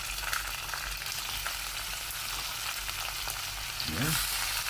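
Pork belly sizzles in a pan of adobo, a steady broadband frying hiss running close and continuous, with a brief stirring scrape near the end.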